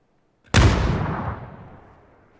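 A single SKS rifle shot in PUBG, a sharp loud crack followed by a long rolling echo that fades over about two seconds.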